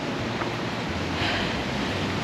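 Ocean waves wash onto a Philippine beach at dawn, a steady soft roar of surf with wind noise, fairly faint and continuous, no voices.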